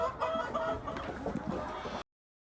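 Old laying hens on a poultry farm cluck steadily and fairly close by for about two seconds, a dense overlapping chatter of several birds with no talking.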